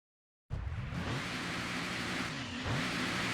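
A car in Gran Turismo 2 bursts into sound after a brief silence and accelerates hard, its engine note climbing through rising pitch sweeps, dipping once at a gear change, then climbing again, loud and close with no voices.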